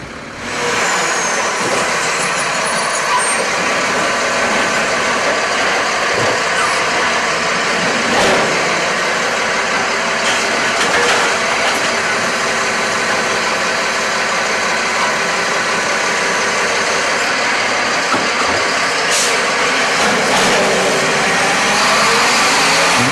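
A city cleaning truck drives through an alley during a technology demonstration in Chicago, producing a loud, continuous engine rumble and road noise that holds steady throughout, with occasional faint clanks and no speech.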